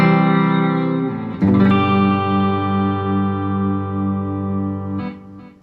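A Volgoa VSR 1 electric guitar on its bridge pickup through a warm clean amp channel with volume and tone fully up, a sustained strummed chord ringing out, then a second strum decaying slowly, alone without talk.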